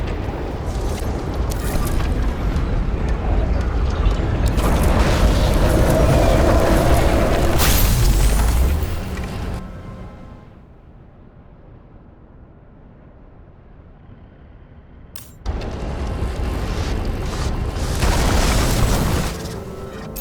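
A loud explosion from the video game Nobody Wants to Die, set in a cyberpunk New York City, where a flooded transformer catches fire: sustained heavy rumbling blasts, a quieter stretch, then another burst of booming rumble.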